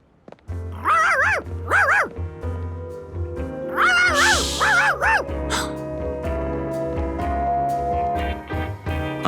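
An animated cartoon dog gives two barks, then a second cluster of three or four barks over background music with other sound effects.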